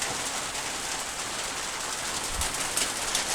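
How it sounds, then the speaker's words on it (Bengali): Heavy rain pouring down steadily on a village home during flooding, a dense unbroken wash of noise with a couple of brief knocks, no voices. "এত বৃষ্টি।"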